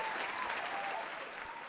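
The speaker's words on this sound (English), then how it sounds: "I want to welcome everyone with an applause." A short burst of dense applause from a crowd, steady and loud from start to finish with no voices heard.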